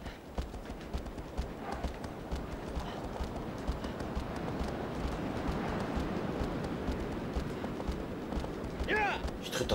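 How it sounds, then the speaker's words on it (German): A horse gallops in Shadow of the Colossus, its hooves drumming in a fast, continuous rhythm close by, with someone talking over it. "Ich tritt das Pferd jetzt die ganze Zeit."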